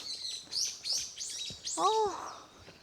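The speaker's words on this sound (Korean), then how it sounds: "새소리 들리시죠? 새소리." Birds chirp and tweet in repeated bright bursts, with one lower warbling call partway through, heard close in a dense, overgrown forest on a trail around Hallasan on Jeju Island, faint and with no talk.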